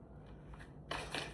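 Tarot cards being shuffled by hand, with a soft riffling rustle near the microphone that turns louder and crisper partway through, heard alone without talk.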